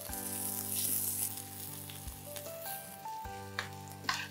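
Onions sizzle and crackle steadily in a hot pan while cooking dal, a continuous frying hiss with occasional stirring clinks, no talking.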